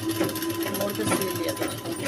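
A sewing machine runs steadily, stitching folded crochet lace trim onto a frock with a continuous close whirring hum that holds for about two seconds.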